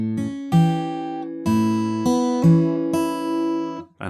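Solo fingerstyle guitar plays a short 12 bar blues phrase, close and clear, with separate plucked notes and a thumbed bass ringing out over about four seconds, no talking.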